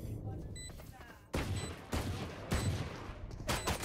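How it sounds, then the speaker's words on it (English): A swarm grenade in a multiplayer shooter game sets off a rapid string of loud blasts and crackling pops, several bursts in quick succession, with faint game voice callouts underneath. "Swarm grenade out."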